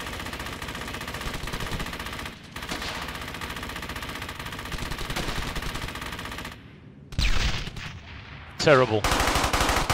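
Bursts of machine gun fire from a World War II shooter, rattling in sustained volleys with brief gaps and louder close bursts near the end, with someone speaking briefly over it.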